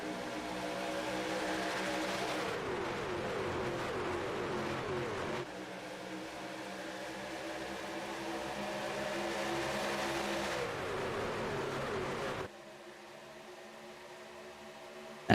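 Pulling trucks racing in a pack at Daytona in iRacing, engines droning loudly and continuously with shifting pitch as cars pass, in several steady segments with a brief click at the end.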